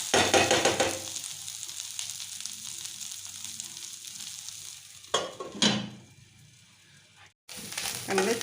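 Mani cai (sweet leaf) greens cooking in a pan, a soft sizzle that fades as a lid goes on, followed by a quieter simmer, a couple of clattering lid or pan knocks, and a brief silence near the end.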